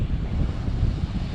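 Waves wash at a shallow beach on the Bristol Channel, a steady low rumbling surge mixed with wind buffeting the microphone, with no voices.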